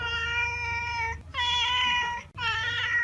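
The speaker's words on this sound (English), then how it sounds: "Cat." A cat meows three times in a row, drawn-out, tonal and close, with short gaps between the calls.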